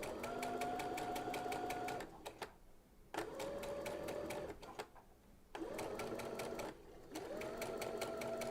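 Sewing machine with a gathering foot stitching fabric: rapid, rhythmic needle clatter in several bursts of about two seconds, separated by short pauses, close but soft.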